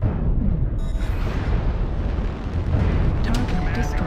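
Destruction of a mech in the MechWarrior Online video game, a sustained loud rumbling explosion with crackling bursts that swells again near the end.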